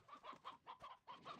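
Chickens clucking in the video game Slime Rancher 2, a steady run of short, close, moderately loud clucks and bursts with no talking.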